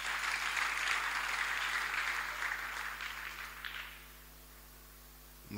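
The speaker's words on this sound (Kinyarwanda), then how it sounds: "Komera Imana amashyi." Applause from a church congregation, a dense broad clatter of many hands that stays loud, thins out near the end and stops, leaving a quiet hum.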